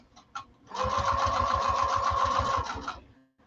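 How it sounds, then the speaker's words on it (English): Sewing machine running steadily through a quarter-inch seam across bulky fabric, a fast even stitching rattle lasting about two seconds after a couple of brief taps, close and alone. "So I'm going to sew this right across."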